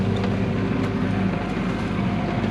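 A 28-foot sailboat motors across open sea on a gray day under engine power, a steady low drone with wind noise that continues throughout.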